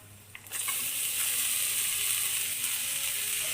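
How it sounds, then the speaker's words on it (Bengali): Chopped bottle gourd dropped into a pan of frying ginger and green chilli in hot oil, setting off a loud, steady sizzle that holds to the end, with faint clatter and no talk. "এবার আমি এর মধ্যে অ্যাড করব আগে থেকে কেটে রাখা লাউ"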